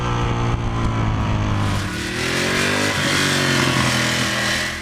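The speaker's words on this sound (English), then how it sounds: "The sound of the engine's pretty good, but the mufflers are a little bit tinny sounding." A nearby motorcycle engine, a 2014 Ducati Monster or KTM 1290 Super Duke, idles and revs up and down, its exhaust sounding raspy and thin through tinny mufflers, loud and continuous.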